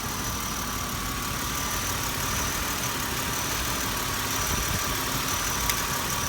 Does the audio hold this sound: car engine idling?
yes